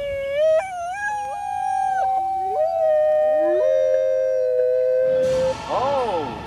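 A dog howls close and loud in long, wavering, gliding notes for about five seconds. A short rising whine follows at the end.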